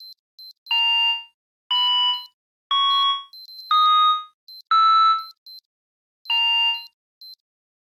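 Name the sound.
alarm clock ringing on bedside table in video game Unmemory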